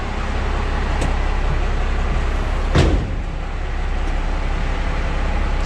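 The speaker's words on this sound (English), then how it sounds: "Fire's right up. Okay. Doesn't run very good, but it's turbo diesel, Jim." A rough-running turbo diesel engine idles with a loud, steady low rumble, briefly interrupted near the middle by a sharp knock or clunk before the drone carries on.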